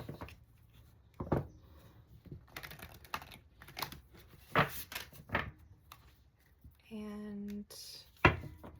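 Several bursts of crisp card riffling and tapping, close by, spaced irregularly with a brief tonal hum partway through.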